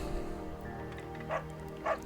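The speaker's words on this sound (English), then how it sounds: "Beagle's a good dog." A beagle in the video game Firewatch gives two short yips, the first around the middle and the second near the end, each brief and moderately close over a steady low game ambience.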